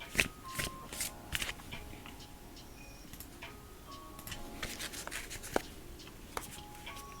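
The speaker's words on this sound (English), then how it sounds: "Just giving it a nice good shuffle." Tarot cards are shuffled by hand in a quiet room, giving a run of soft, close riffling clicks and taps with irregular rhythm and a few sharper snaps.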